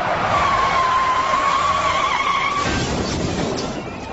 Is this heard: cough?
no